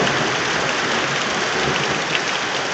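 Heavy rain pouring down in a steady, dense, loud hiss with no pauses, close and continuous throughout.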